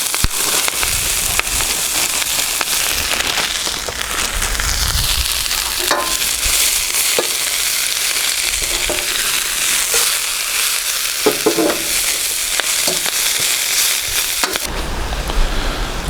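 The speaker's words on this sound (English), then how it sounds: "I'm going to be frying the veg off first" Vegetables frying in a smoking-hot wok over an outdoor gas burner, a loud, continuous sizzle with crackles and occasional clatters of stirring throughout, no talk.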